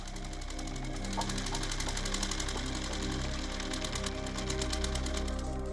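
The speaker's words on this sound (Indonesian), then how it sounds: "Maraknya mesin-mesin pompa yang bekerja" Water pump engines running at diamond mining pits in Martapura, a steady loud mechanical chugging with rapid rhythmic knocking, continuous and close, with no talking.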